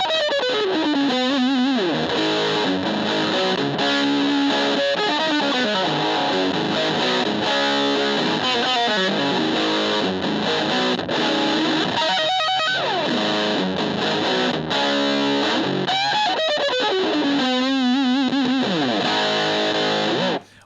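A heavily distorted electric guitar plays the outro of a song, with rapid tapped runs and sweeping bends that sound loud and sustained, with no talking.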